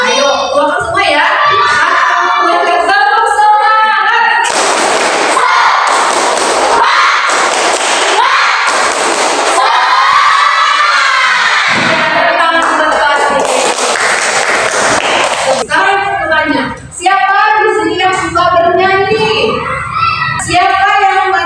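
A crowd in a classroom or training session does a rhythmic clapping chant, loud bursts of patterned claps and shouted voices alternating with stretches of a speaker talking, all close and energetic.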